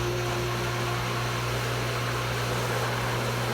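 A self-priming water pump runs steadily and close by, giving a continuous mechanical hum with strong low tones and broadband hiss, changing only slightly in character as it primes.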